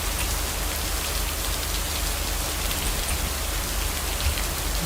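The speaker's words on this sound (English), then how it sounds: "The white noise that typically does it for me is ambient rain noises, especially thunderstorms." Steady ambient rain falling on a surface, a dense even hiss with no breaks and no voices, close and moderately loud throughout.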